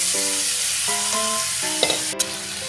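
Steady sizzling of potato and pumpkin frying in a pan, with a few clinks of a utensil stirring near the end.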